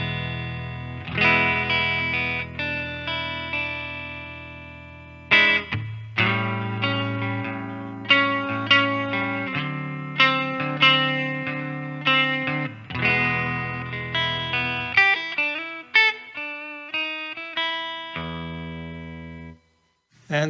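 Clean electric guitar through a Line 6 POD Go Fender Deluxe Reverb amp model with cabinet and reverb blocks, playing a clear melodic line of picked notes and chords that decay with a light reverb tail, alone and up close.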